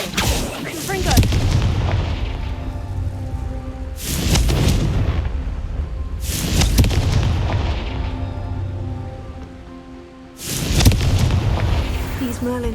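Confringo fire spell blasts in Hogwarts Legacy go off as three loud, booming explosions spaced a few seconds apart, each one followed by a rumbling decay over continuous low game ambience.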